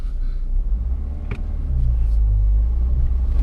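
Toyota Fortuner or Renault Duster 4x4 SUV off-road, its engine rumbling low and then rising into a louder, sustained rev after a brief knock, heard up close from inside the vehicle.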